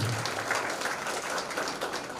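A crowd claps in honour of a retiring officer at an SRP police camp farewell ceremony, a continuous, even wash of many hands from start to finish.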